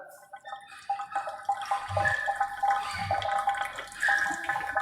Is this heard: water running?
yes